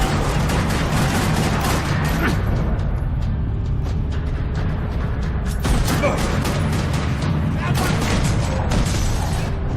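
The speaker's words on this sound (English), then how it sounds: "Another parking lot rattling with gunfire." Gunfire rattles across a parking lot in the Max Payne 3 game, with loud, dense bursts and booms over a constant mechanical din that lasts the whole stretch.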